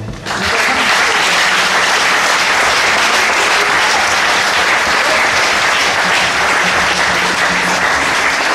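A church congregation claps loudly and steadily, filling the space with dense, sustained applause from start to finish.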